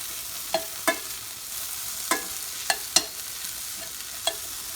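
Onions and capsicum fry in a pan while being stirred, a soft sizzle under sharp scraping clicks of a utensil against the pan at irregular moments.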